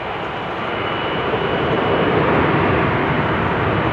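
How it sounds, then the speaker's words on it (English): A KLM Boeing 737 jet takes off at a busy airport, a broad steady roar that builds gradually in loudness over a few seconds, heard alone without voices. "Another KLM 737 taking off"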